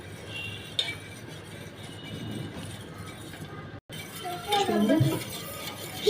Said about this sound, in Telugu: బాగా మనం చిక్కబడేంత వరకు తిప్పుకోవాలి. ఇలాగే తిప్పుతూ ఉండాలి.